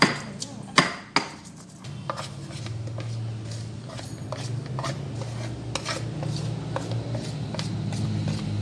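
Garlic, coriander, turmeric and salt are ground by hand for frying catfish. Several sharp knocks come first, followed by a steady gritty grinding with small repeated clicks, all close up and with no voices.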